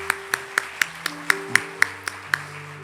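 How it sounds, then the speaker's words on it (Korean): Church congregation clapping in a steady, even rhythm of sharp claps, roughly four per second, over a faint sustained musical tone. "우리 감사의 박수로 함께 축복을 전했으면 좋겠습니다"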